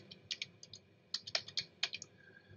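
Typing on a computer keyboard while entering text in a design program: quiet, close key clicks in irregular short bursts with brief pauses between them, and no voice.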